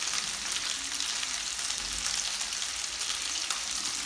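Homemade meatballs browning in a frying pan make a steady, close, bright sizzle that spits and crackles evenly, with no talking.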